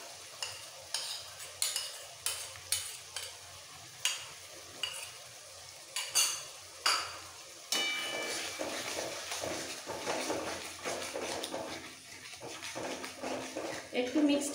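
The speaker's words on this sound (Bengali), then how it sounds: "পুরো বাটা মশলাটা দিয়ে দিচ্ছি।" Ground garlic, ginger, cumin and dried chilli paste going into a pan for a chicken curry, with sharp rhythmic scraping and clinking of a spoon against the pan, then a softer continuous sizzle and stirring.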